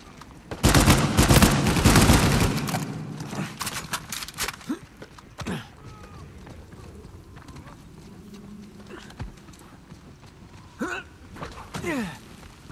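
Rapid bursts of gunfire in an Uncharted 4 multiplayer match, loud and dense for the first few seconds, then sparser scattered shots and impacts amid game effects, with a player talking briefly.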